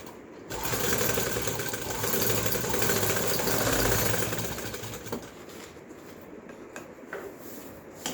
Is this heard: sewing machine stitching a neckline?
yes